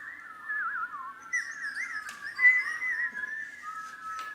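Audience members whistle together in imitation of birdsong, overlapping warbling and trilling tones that keep going steadily, with a few sharper chirps rising above the group.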